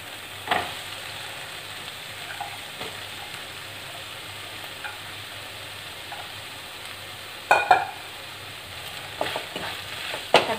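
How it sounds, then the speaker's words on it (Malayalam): Capsicum fries and gets stirred in a pan while gobi manchurian is cooked, making a soft, low sizzle with a few sharp scrapes of the spoon against the pan, heard close with no voices. "ബാക്കിയിലോട്ട് നമുക്ക് ക്യാപ്സിക്കം ചേർത്ത് കൊടുക്കാം."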